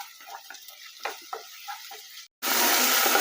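Small tomatoes sauté in a pan for a mutton pepper fry, with a soft sizzle and spoon-stirring scrapes, then a brief gap before a loud, steady, close sizzle.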